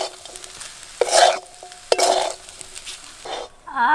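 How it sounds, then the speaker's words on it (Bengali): Pasta stir-frying with chicken in a pan makes bursts of scraping and sizzling as a spatula moves the food, with three distinct stirring strokes over a soft background sizzle and no talk. "চিকেনের সঙ্গে পাস্তা একটু ভাজা ভাজা করেছি।"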